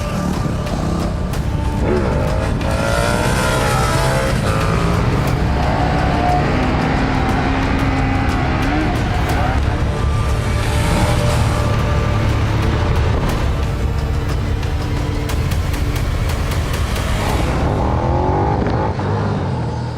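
A KTM 1290 Super Duke R motorcycle engine roars loud and near throughout a ride, with rising and falling revs and gear changes over a steady rush of road noise.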